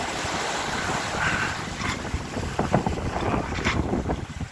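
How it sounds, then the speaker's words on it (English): A Cal 29 sailboat crosses open water southwest of Cape St. James in the Queen Charlotte Islands in strong wind, with heavy wind buffeting the microphone over rushing water and surging wave splashes, and no one speaking. "just cooking along here in this big wind"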